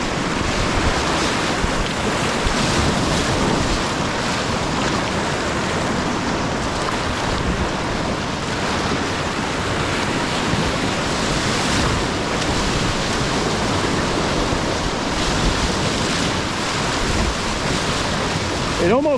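Whitewater rushing on the Upper Ocoee river, a constant loud roar of churning waves and spray mixed with wind buffeting the microphone, steady throughout with no pauses.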